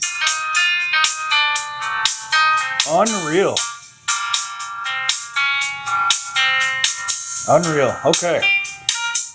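Music playing through Pioneer TS-120TWM dome tweeters, bright and loud with crisp high-end and rhythmic pulsing, while a man exclaims briefly over it.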